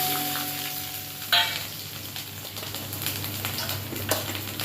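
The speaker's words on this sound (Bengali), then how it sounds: "শুকনো লঙ্কা ফোড়ন দিচ্ছি" Dried red chillies and ginger hit hot oil in a kadai for a tempering, giving a sharp burst of crackle, then a steady, close sizzle with light spatter that holds on to the end.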